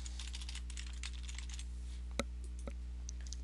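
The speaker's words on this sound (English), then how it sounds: "Go ahead and keep typing in the reasons that you'd like people to choose from." Computer keyboard typing while entering list entries in FireFly point-of-sale setup software: a steady run of light, fast key clicks over a constant low hum, with two sharper, louder key strikes near the end.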